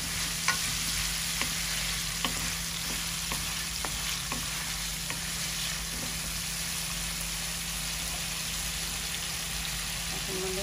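Potatoes, spinach and prawns sautéing in a pan, a soft continuous sizzle with periodic spoon taps and scrapes against the pan, a low steady hum beneath, no talk.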